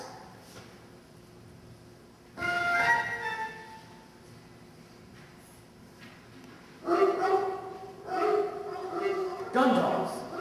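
Gun dogs bark in short, harmonic bursts: one early volley, then a longer run of barking near the end, mixed in with spoken dialogue.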